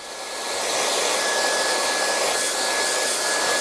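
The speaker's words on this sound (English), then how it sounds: "passing the hairdryer around the back" A handheld hairdryer blow-drying hair runs with a steady, close, airy whine, ramping up at the start and then holding constant throughout, alone without speech.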